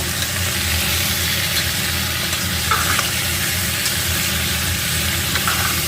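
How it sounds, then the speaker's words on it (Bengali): Salted elephant foot yam curry fries in a pan with a constant loud sizzle and low rumble, stirred with occasional soft scrapes, close up and uninterrupted. "এবার আমি ভালো করে কিন্তু একটু নাড়াচাড়া করে নেব"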